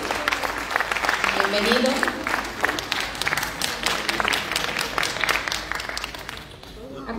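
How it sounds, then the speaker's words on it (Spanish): Audience applause for a lecturer and Córdoba writer at a book event, dense clapping sustained throughout under a brief spoken welcome, tapering near the end. "Le damos un fuerte aplauso al licenciado Luis Nakauma Salas, también es escritor cordobés"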